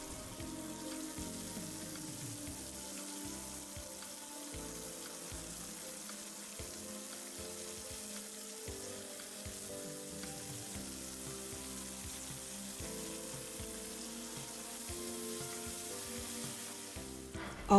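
Chopped onion fries in a pan with a soft, steady sizzle that runs evenly throughout, faint and close, over a low background hum.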